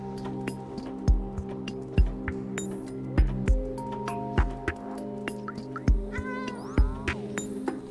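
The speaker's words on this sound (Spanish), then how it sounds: "Gato hablador." A cat meowing in the video game Stray, one short wavering meow near the end amid regular soft thumping steps and a steady electronic hum.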